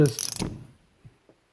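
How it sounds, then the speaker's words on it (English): A GearWrench 3/8 inch gimbal ratchet, model 81270, fitted with a 3/8 extension, gives a quick, close burst of rapid clicks, then falls quiet except for two soft knocks. "So let's see if the fancy ratchet works better"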